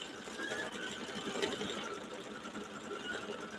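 A sewing machine stitches out a Mylar wedding quilt with a steady, even mechanical whir and rapid needle chatter, running continuously at moderate volume with no talk.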